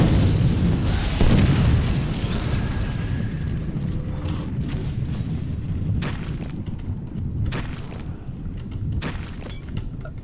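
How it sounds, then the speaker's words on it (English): Explosions boom in Clive Barker's Undying amid a steady roar of game ambience, a heavy blast early on followed by several sharp bursts at intervals. "Don't you dare chuck explosives at me"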